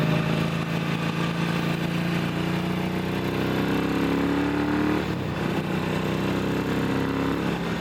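A Ducati motorcycle engine idles steadily and fairly loud nearby, its low tone wavering slightly and dipping briefly midway as if close to stalling.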